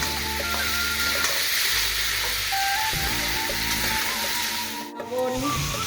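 Spices with turmeric frying in a pan, a steady close sizzle with stirring scrapes running throughout, briefly dipping near the end.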